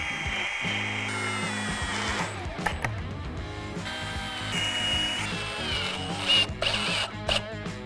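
A power drill whirs in bursts, its pitch rising and falling as it bores pilot holes into wood, with short pauses between runs.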